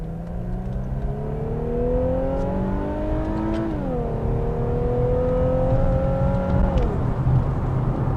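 An Infiniti Q60 3.0T coupe accelerates through the gears, its engine note climbing steadily, dropping briefly at each upshift and rising again, heard loud from inside the cabin.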